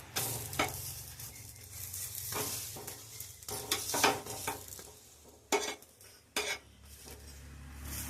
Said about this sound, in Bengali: পরোটা আমি বানাবো এইভাবে লাল করে ভেজে নেব পরোটাগুলো